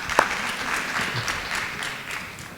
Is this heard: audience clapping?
yes